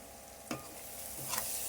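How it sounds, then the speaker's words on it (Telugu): Curry leaves hit the hot oil of a Nellore-style fish curry pan, giving two quick bursts of crackle followed by a steady, soft sizzle that grows slightly louder, with no talking. "మనం కొంచెం కర్రీ లీవ్స్ కరివేపాకు యాడ్ చేసుకుందాం"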